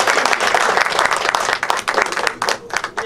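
Lively audience clapping at a Bhojpuri film music and trailer launch, loud and close, with a few sharp individual claps standing out as the applause thins toward the end.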